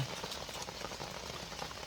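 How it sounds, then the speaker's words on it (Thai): Rain falling steadily, a dense patter of drops spread evenly through the whole stretch at a moderate, fairly distant level with no voices. "เสียงฝนตกครับผมเสียงฝนตก"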